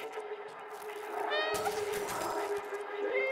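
A cat meows in the video game Stray, a few short, close meows over a steady game ambience.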